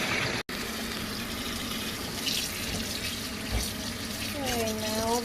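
Tap water runs steadily into a kitchen sink while beef tendons are rinsed for Vietnamese pho, a close, continuous splashing gush.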